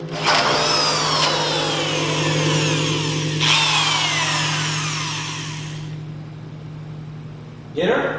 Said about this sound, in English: we're going to first start by drilling a 2 3/8 hole at the bottom of the tank for an outlet